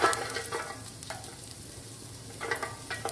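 Chopped garlic sautéing in hot oil in a pan, with a steady close sizzle and a few bursts of stirring and scraping at the start and near the end.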